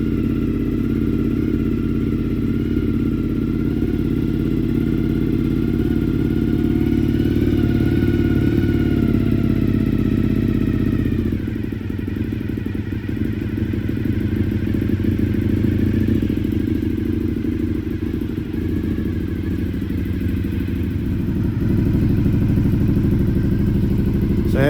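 A Honda VFR400 NC30 motorcycle under restoration runs steadily on its first outing from the garage, a close, continuous mid-pitched engine hum with a lower, rougher patch partway through and no voices.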